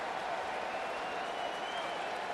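A home crowd at an Alabama college football game against East Carolina keeps up a steady, dense roar of cheering and applause from a large stadium, heard from a distance, with no breaks.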